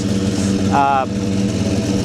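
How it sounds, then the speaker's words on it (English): A turbocharged V8 in a Sendycar on a dyno in New Zealand idles on a cold start with a loud, steady low rumble, and a brief tonal whine rises over it partway through. "Right now you can hear the engine idling, and we're basically doing some cold start work"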